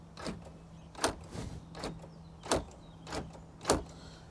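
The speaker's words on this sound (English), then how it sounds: "Door locks work." Power door locks on a Jeep WJ actuate in a series of six sharp mechanical clunks spaced about half a second to a second apart, close by, over a faint steady hum.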